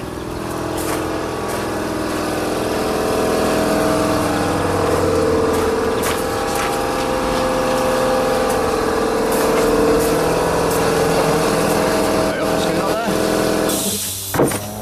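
A workshop air compressor runs with a steady, loud mechanical drone that holds throughout, then cuts off near the end, with people talking over it.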